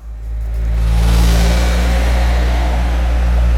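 A car accelerates hard and speeds off, its engine rising into a loud, steady roar that rumbles close for several seconds, used as a sound effect in a campfire ghost story.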